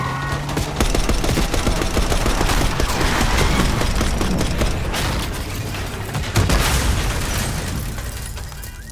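Dense, continuous gunfire and booming blasts from Call of Duty Black Ops 6, loud and sustained throughout with rapid bursts and heavy impacts, no talk over it.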